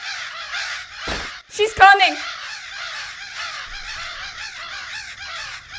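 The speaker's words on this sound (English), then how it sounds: "Wow, these birds and you have so much in common. The birds are loud, just like you." Loud crows caw repeatedly in the horror game Remothered: Broken Porcelain, a dense, steady chorus of harsh calls throughout, briefly interrupted by a sudden voice shouting over them.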